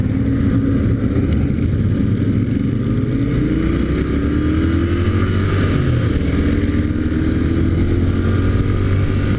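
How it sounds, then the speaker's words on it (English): A Continental GT 650 motorcycle accelerating hard on a highway in Goa, its engine a loud, steady roar with rising pitch through the gears, mixed with constant wind rush. "Time to open up the throttle and see what these bikes can really do"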